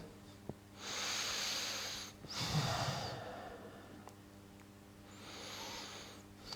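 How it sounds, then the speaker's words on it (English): Slow, deep breaths taken while holding a seated yoga twist, each long airy inhale and exhale close and soft, with quiet pauses between them and no talking. "3 slow deep breaths here"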